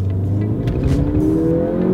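A Ford Fiesta ST with the Mountune MP215 upgrade accelerates hard in first gear, its engine note building steadily with a rising tone over a continuous low road rumble, close and loud with no talking.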